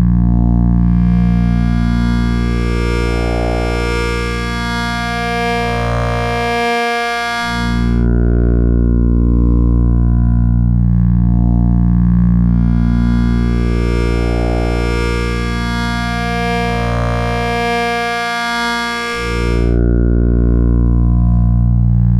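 A Synth Tech E350 wavetable oscillator with its X morphing, a loud sustained buzzy drone rich in harmonics whose timbre sweeps and brightens in two long cycles, with no talking.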